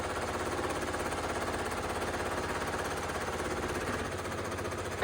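A sewing machine stitches a zigzag seam with a fast, steady mechanical chatter that runs unbroken and close, filling the whole moment with no voices.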